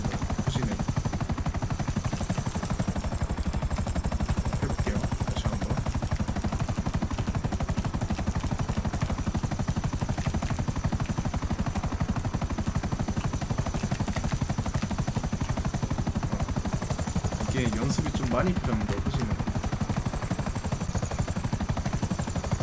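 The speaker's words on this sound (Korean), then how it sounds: "자 이렇게 헬기가 움직입니다" A helicopter flies in the GTA 5 video game, its rhythmic rotor thump and engine drone running steadily the whole time, with a few brief spoken words over it.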